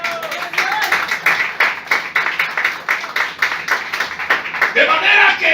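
A church congregation claps in a steady rhythm, many hands beating together at close range throughout, with some voices rising near the end.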